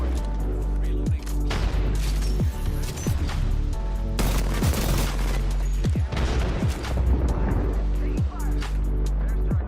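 Airstrike explosions and gunfire in the Apex Legends video game on Xbox, with dense repeated booms and shots over a constant loud battle din, while a voice speaks over the action.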